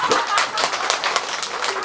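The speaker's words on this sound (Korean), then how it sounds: "다시 한번 우리 고아자 박사 박수 한번 주세요" Audience applause at a Korean pumba performance during a festival, a steady wash of many hands clapping close in for the whole short stretch, with an irregular patter and no pauses.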